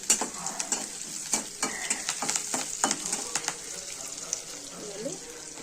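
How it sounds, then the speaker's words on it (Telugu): Curry leaves and green chillies sizzle in a hot pan, a steady crackling hiss broken by sharp clinks and scrapes of stirring. "కరివేపాకు మనం వేయించుకోవాలా"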